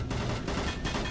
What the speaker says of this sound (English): And who's shooting in the other room?